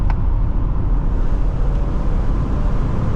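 A 400-horsepower EcoBoost Ford Police Interceptor Utility SUV accelerates hard, its engine a loud, steady, dense roar with heavy low-end road and wind noise throughout and no voices.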